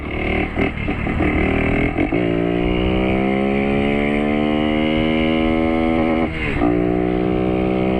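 A Honda Pop 110i motorcycle engine revs up loud and close, its pitch climbing steadily through a long pull, then dropping with a gear change before climbing again.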